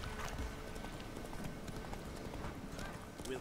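A horse's hooves clip-clop steadily at a brisk pace in The Witcher 3, a continuous rhythmic patter under ambient game sound.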